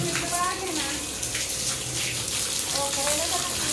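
Water pours and splashes steadily onto fresh masonry work in a home sitting room, a continuous close hiss and trickle with no break.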